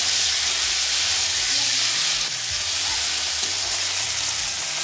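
Chopped tomatoes and green chilies dropped into hot oil already tempered with bay leaf, a dried red chili and whole cumin give a loud, dense, hissing sizzle that holds steady throughout, close up with no speech.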